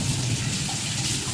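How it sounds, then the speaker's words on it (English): Water runs from a tap at a sink while hands are washed: a continuous, soft, even splashing stream that plays alone at a fairly low level. "And now I gotta go wash my hands."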